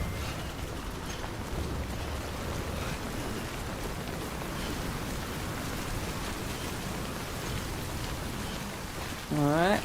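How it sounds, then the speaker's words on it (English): Steady rain falling in the video game Death Stranding, a continuous even hiss across the whole stretch with no clear talk, ending in a brief louder tonal swell. "we got rain."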